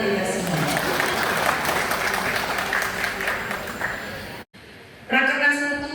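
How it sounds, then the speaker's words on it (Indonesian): Applause from the crowd at a PDI Perjuangan party consolidation meeting in Malang, a dense, steady clapping that cuts off abruptly near the end before a voice speaks over a brief, quieter tail. "Tepuk tangan untuk kita semua."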